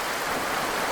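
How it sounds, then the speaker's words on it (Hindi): Steady rushing water, a continuous broadband wash like a stream or small cascade, close and even throughout. "बहता हुआ पानी"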